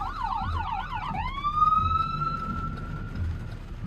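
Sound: ambulance siren passing

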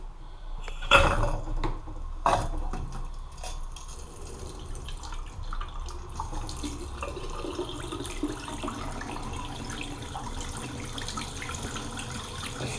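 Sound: bathroom sink tap running water

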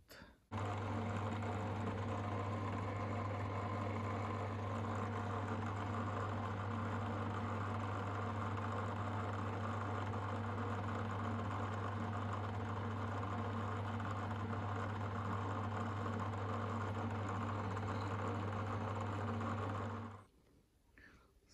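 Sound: electric drill boring 4 mm holes at 750 rpm

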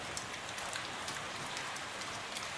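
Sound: heavy rain falling outside

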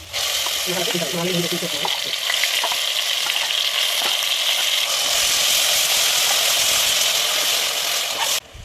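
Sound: masala frying in a pan

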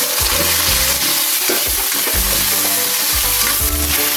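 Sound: sautéing garlic, onion, chili and tomato in a pan

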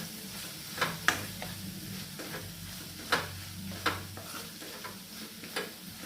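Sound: tomatoes sautéing in a covered pan

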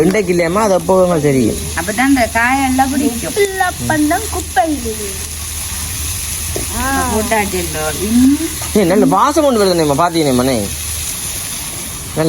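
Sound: onions frying in a pan for sundakkai kuzhambu

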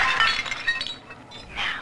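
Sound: porcelain tea service clinking, from video game BioShock 2

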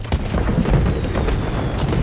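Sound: fireworks exploding in a video game

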